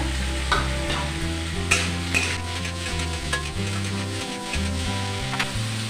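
Chopped tomato hits hot oil in a pan for samosa filling, giving a steady close sizzle with stirring clinks and scrapes throughout, no voices.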